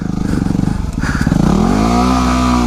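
A dual sport motorcycle stuck in mud revs loudly up close, its engine pulsing in rapid bursts before climbing into a sustained rising whine.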